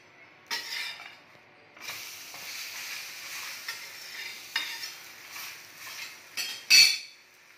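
A vegetable pocket paratha cooking on a griddle with butter, soft sizzling under intermittent scraping and spatula clicks, with a sharp metallic clink near the end.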